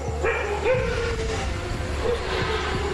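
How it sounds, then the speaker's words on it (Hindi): Village dogs near a national park bark in a few short, scattered yaps, moderately close, over a low steady rumble in the background. "कुत्ते शेरों को देखते ही भौंक भौंक कर पूरे गांव को खबरदार कर सकते हैं।"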